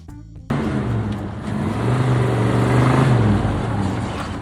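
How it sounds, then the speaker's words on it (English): A 1968 Oldsmobile 442 W30 muscle car engine roars to life after a brief quiet moment, settling into a loud, deep, rumbling idle with steady throbbing pulses and some rising revs. "Number 12, the 1968 Oldsmobile 442 W30."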